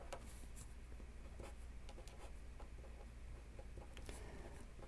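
Pen or marker scratching and tapping out a math limit problem, a steady run of short strokes and ticks close up over a low constant hum, no voices.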